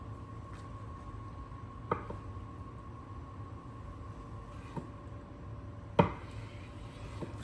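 A Cutluxe knife cuts through pork belly into cubes, with a few distinct chopping strikes on a board, one louder thud near the end, over a steady low kitchen hum.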